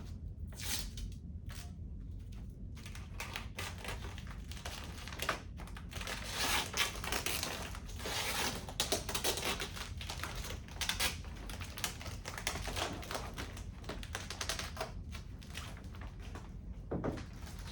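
Duct tape is pulled and wrapped around the twisted, folded-over neck of a plastic asbestos waste bag. Faint rips, crinkles and tearing bursts come at irregular intervals, with no talk.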